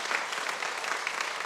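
A church congregation at a Korean Sunday service claps in welcome for newcomers, a dense, steady wash of applause lasting through the moment with no break.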